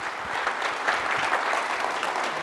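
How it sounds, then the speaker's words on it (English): A crowd applauds steadily to welcome an IBM executive to the stage at an entrepreneurship talk, with dense, even clapping and no voices. "So let's have a rousing cheer welcome for Mike Rhodin today."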